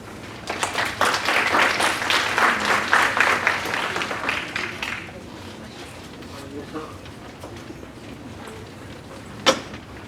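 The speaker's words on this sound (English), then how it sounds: "Let's give her a round of applause." A round of applause from an audience at a student leadership scholarship orientation, lively clapping for about five seconds that fades into room murmur and a few stray sounds.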